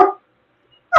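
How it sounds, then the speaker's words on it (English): A small dog barks at someone at the door: two short, sharp barks close by, one at the start and one at the end, with silence between. "My dog is going nuts."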